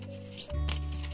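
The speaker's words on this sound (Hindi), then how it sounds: "अब इसमें से हम डिवाइड कर लेंगे कार्ड्स" Tarot cards are split and slid into piles during a pick-a-card reading, a close, brief papery shuffle and rub that swells into a steady rustling.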